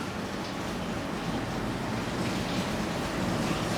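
Aquarium water drains through a siphon hose during cleaning of a big fish tank, giving a steady, continuous rushing wash with no breaks, moderately loud and close, with no voices over it.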